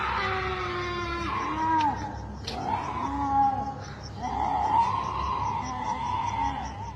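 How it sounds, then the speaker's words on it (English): Guttural, wailing screams carry through the darkness, long rising-and-falling cries repeated several times over a steady background hiss, moderately distant and eerie. "The screams heard in this video certainly fit the common descriptions of a keening banshee."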